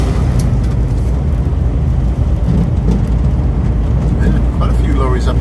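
Lorry rumbling past a VW T4 van on a country road, a loud, close, sustained roar of engine and tyre noise filling the cabin.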